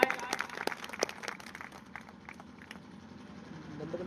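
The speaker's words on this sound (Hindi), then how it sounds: "उनके सम्मान में एक बार तहे दिल से तालियां हो जाए" Scattered claps ring out at a company sales event honoring top achievers, sharp and fairly close at first, then thinning into a faint murmur of room noise.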